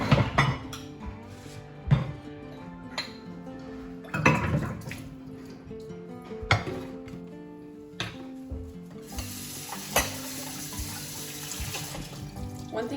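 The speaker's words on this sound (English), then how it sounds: "So let's go over here to do the dishes." Dishes being washed at a kitchen sink in a one-bedroom apartment: running tap water with scattered clinks and knocks of pots and cutlery, close and steady, with no talking.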